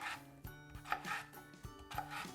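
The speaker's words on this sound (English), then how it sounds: "just give that a chop and you have really nice even squares of potato" A knife chops potato slices into squares on a board, sharp close thuds in an uneven rhythm of about six strikes, with soft scraping between cuts and no voice.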